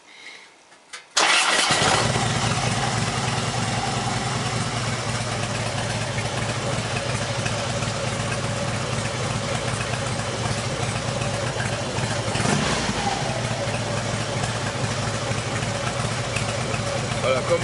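A motorcycle engine starts after a short quiet moment, catching abruptly and then settling into a loud, steady, close idle that holds for the rest of the clip, with a slight surge partway through.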